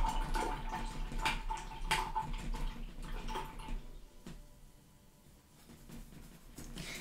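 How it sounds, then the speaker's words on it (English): A paintbrush being washed in water while painting with acrylics, faint sloshing and dripping with soft splashy bursts, quietening midway before resuming gently. "now I'm going to wash off my brush"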